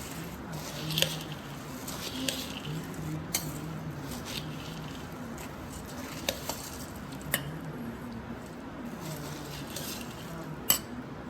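A spoon mixes bhel puri with chopped onions and tomatoes in a bowl: soft, steady rustling and squishing, punctuated by scattered sharp metal clinks against the bowl.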